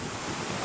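Raging, swollen river rushing past a gravel bar, a loud, dense and continuous roar of water with no voices.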